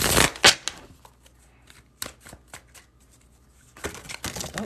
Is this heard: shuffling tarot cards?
yes